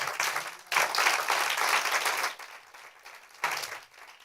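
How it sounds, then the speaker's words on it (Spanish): Audience applause in a church service, a broad clapping burst that fades briefly, then swells again and trails off, moderately loud with no voices. "¿Por qué no le da un aplauso al Señor?"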